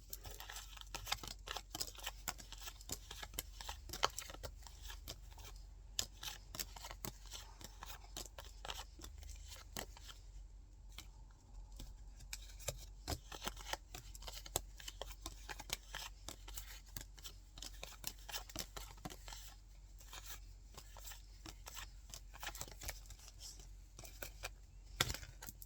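Tarot cards are shuffled by hand in a quiet room, giving a long stretch of soft, close, irregular riffling and snapping flicks with no speech.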